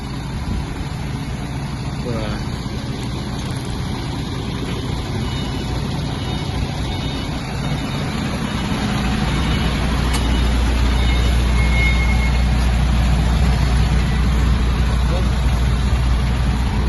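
An articulated lorry's engine rumbles steadily nearby as it reverses, growing louder toward the end, with people talking intermittently over the noise.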